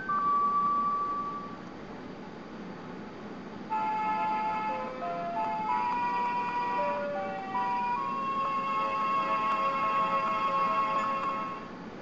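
A lullaby from the Ocarina of Time video game, a slow, clear ocarina melody of pure held tones rising and falling over soft background game music, with no voices.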